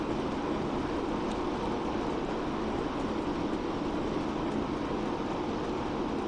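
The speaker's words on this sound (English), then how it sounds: "you can tell this train's going faster" A Class 45/1 diesel locomotive in Train Sim World rolls along at speed, a loud, unbroken rumble and roar that stays steady throughout with no voices.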